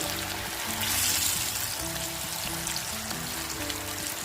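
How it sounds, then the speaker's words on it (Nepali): About 750 grams of fish fry in hot oil in a pan for a Malekhu-style fish curry, a continuous dense sizzle and crackle like steady rain, close and even throughout with no talking. "मैले यो 2 ब्याच गरेर फ्राई गर्दैछु है 750 ग्राम जति माछालाई"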